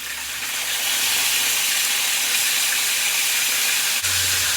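Oxtail fries in hot oil with a loud, continuous hiss and sizzle as it is flipped over, and a low hum comes in near the end.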